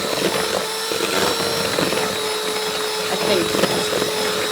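An electric whisk beats cake batter for a Yule log in a home kitchen, a steady whirring hum with faint rhythmic scraping in the bowl, while a person speaks briefly over it.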